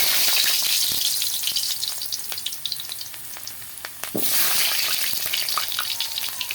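Potatoes fry in hot oil in a pan, giving a loud, steady, close sizzle and crackle with a few light stirring clicks.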